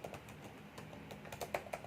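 Close, quiet keystrokes on a computer keyboard, a quick uneven run of light clicks with no voice.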